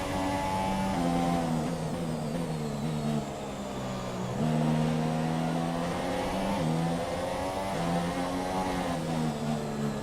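An F1 car engine under throttle in the video game F1 2017 at the Australian race, a loud, high-pitched whine rising and dipping through gear changes, with brief lifts off the throttle, continuous and close.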